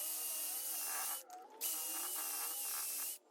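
A drill bores pocket holes through a Massca pocket hole jig, a high steady whirring spin that cuts out briefly near the middle and then resumes before stopping, close and clear.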